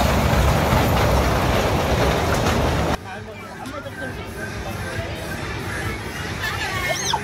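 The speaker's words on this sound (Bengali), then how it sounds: "আছে ট্রেন।" A toy train at an amusement park rumbles loudly and steadily for about three seconds, then gives way to crowd babble and nearby voices in the open park.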